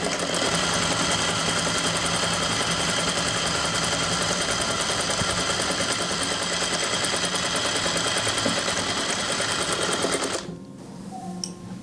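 A sewing machine runs steadily while stitching a dress seam, its fast, even motor buzz and needle chatter holding close and loud for about ten seconds before stopping abruptly.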